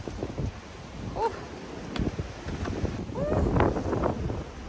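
Wind on an outdoor homestead, buffeting the microphone in steady gusty rumbles that swell toward the end, with faint voice fragments and rustle mixed in.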